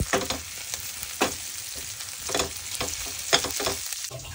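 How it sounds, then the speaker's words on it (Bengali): Onion, garlic and green chili fry in a pan in a home kitchen, a steady soft sizzle broken by periodic scraping stirs of a spatula, close and moderately quiet, with no talking. "এদিকে মোটামুটি আমার পেঁয়াজ রসুন কাঁচা লঙ্কা ভাজা হয়ে গেছে। এটা আমি একটু বেশি ভাজি"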